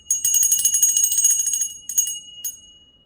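A ritual hand bell (ghanta) is rung during a Shraddha puja: rapid bright metallic clanging for about a second and a half, then two single strikes that ring out and fade, close and clear with no voices.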